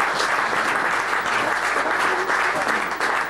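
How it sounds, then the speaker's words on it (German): Sustained applause from an audience at a 2003 indoor football tournament draw, steady dense clapping filling the whole stretch without a break, fairly close and loud. "Aber mehr Applaus jetzt einmal für den Günther Zeller und den Stefan Reiter."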